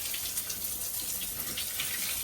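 Water sprays from a weak, low-pressure hose pipe while a pig sty on a Nepali pig farm is washed, a soft steady hiss and splash running continuously and faintly.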